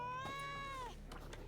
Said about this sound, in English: And kill that cat.